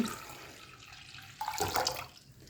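Quiet running water trickles, then a louder splashing gush pours half a litre of water into a pot before tapering off, close by and without speech.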